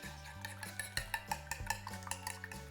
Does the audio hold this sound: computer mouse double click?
no